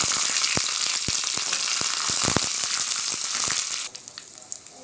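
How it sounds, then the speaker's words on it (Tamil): Mustard seeds sizzle in hot oil while cooking a Tamil banana stem and moong dal dish: a dense hiss dotted with sharp popping crackles that ends abruptly, with no talk. "எண்ணெய் நல்லா சூடானதுக்கப்புறம் நம்ம வந்து கடுகு போட்டுக்கலாம்"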